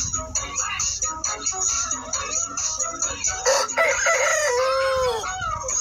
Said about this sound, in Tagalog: Palabasin na natin itong mga manok.